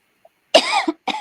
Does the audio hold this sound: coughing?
yes